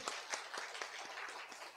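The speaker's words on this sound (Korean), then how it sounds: "박수! 박수!" Scattered clapping from a small congregation at a Catholic Mass, sparse individual claps with irregular rhythm at moderate distance, fairly quiet, with no talk over it.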